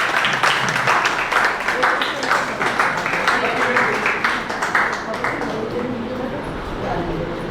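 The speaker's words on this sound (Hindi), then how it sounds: "सब एक बार तालियों से स्वागत करें सब।" A studio audience claps steadily to welcome a guest, the dense applause running throughout while a voice talks over it.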